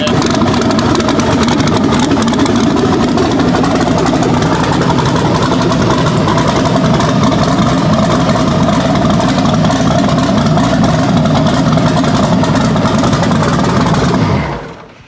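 A twin-turbo LS engine in a Datsun 280Z idles loud and close while warming up, a steady rumbling drone that holds evenly before cutting off abruptly near the end.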